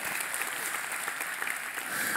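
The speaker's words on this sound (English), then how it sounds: "you can clap for that" A church congregation claps and cheers, dense and continuous applause filling the room for a couple of seconds.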